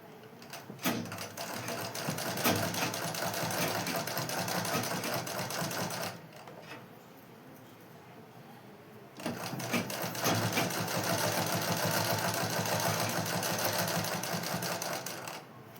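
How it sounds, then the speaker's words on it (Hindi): Sewing machine stitching along the neckline of a boat neck blouse, running in two long continuous bursts with a brief quiet pause between them, close and steady. "सबसे पहले मैं गले की साइड से सिलाई लगाऊंगी।"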